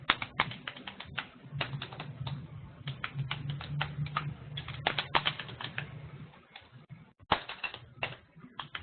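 Fingers type rapidly on a computer keyboard, a steady stream of close, crisp clicks and taps with brief pauses, over a low background hum.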